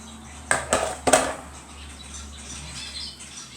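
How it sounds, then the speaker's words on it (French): Mixing ingredients in a bowl starts with three sharp clinks of a utensil against the bowl. A softer, quieter stirring follows. "Et on va venir mélanger tout ça."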